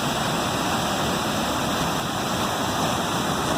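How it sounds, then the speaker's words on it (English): Waterfalls at Krka National Park in Croatia pour in a steady, dense broadband rush, loud and unbroken throughout with no voices. "Krka National Forest, where you get to see these gorgeous waterfalls."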